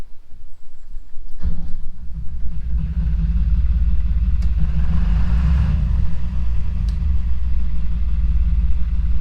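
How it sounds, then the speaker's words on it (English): A narrowboat's diesel engine cranks and catches, then settles into a steady, loud, close rumbling idle that runs on alone without talk. "I haven't run the engine yet today, that's the first time I started it"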